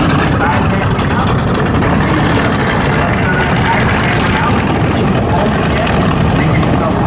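A vintage airshow plane taxis out, its steady engine rumble loud and continuous throughout, with an announcer's voice over the public address beneath the noise.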